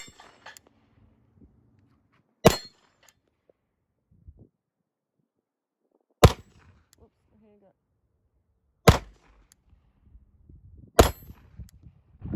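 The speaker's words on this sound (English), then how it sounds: "Let me shoot some more of that steel real quick." An Arex Delta M pistol with a red dot fires four sharp, loud single shots at steel targets, each a crisp crack spaced a few seconds apart with brief ringing and quiet gaps between.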